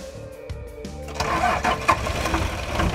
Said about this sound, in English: With Chris now giving the oil clear, Shauno was able to get the big rig running with a minimum of fuss